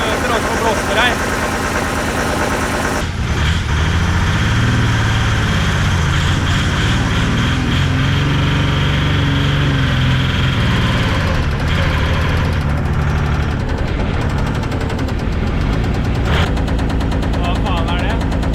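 A damaged OM648 race engine at a Gatebil event at Mantorp runs roughly, blowing exhaust. It makes a loud, uneven idle with popping, gunfire-like bursts throughout, and voices are partly heard over it.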